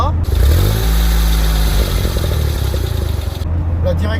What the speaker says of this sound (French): le moteur, qui est un petit 3 cylindres, fait un bruit rauque très sympa